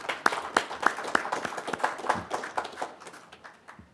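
Scattered hand clapping from a small group at a county board of commissioners meeting honoring an employee of the month, with sharp individual claps in an uneven rhythm that thins out toward the end.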